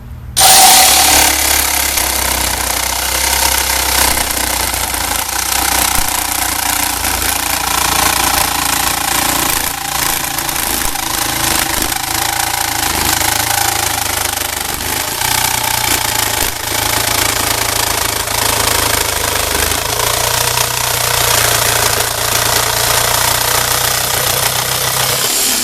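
A jigsaw cutting 18 gauge sheet metal, a harsh, loud, continuous rattling buzz with a metallic chatter that holds steady for the whole cut, close to the microphone.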